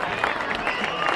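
Crowd at a high school football game clapping and cheering in a steady dense wash, a short burst of applause with voices mixed in.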